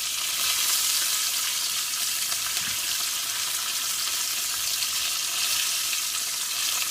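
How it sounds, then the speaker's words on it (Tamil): Curry leaves and green chili fry in hot oil for an egg curry, giving a steady, close hiss and crackle of sizzling that holds without pause. "நல்லா பொரிஞ்சிருச்சு இப்போ கருவேப்பிலை போட்டோம் பச்சை மிளகா"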